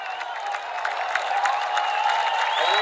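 A crowd at a national high school boys' 3200m race roars and cheers a runner on, a steady, dense wall of voices and scattered clapping that swells slightly toward the end.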